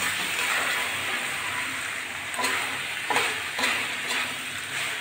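Boiled chickpeas go into potatoes cooking in a pan, a continuous hiss of frying with a few soft thuds and scrapes as they are tipped in.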